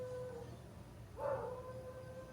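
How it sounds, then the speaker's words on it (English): A dog howls at night, a single drawn-out faint howl rising and falling over quiet background hiss, heard alone without talk. "the dog is howling"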